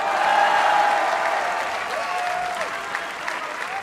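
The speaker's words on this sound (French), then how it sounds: "Un tonnerre d'applaudissements." Crowd applauding at a French political rally ahead of a presidential campaign, loud continuous clapping from a large audience that fades slightly, with a faint whistle-like tone partway through.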